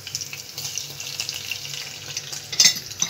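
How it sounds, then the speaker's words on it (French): Chopped onions sizzle and crackle steadily as they fry in hot oil in a pot, a close, continuous hiss for a home-cooked yam stew, with a brief stir near the end. "Les oignons, je les ajoute dans mon huile chaude."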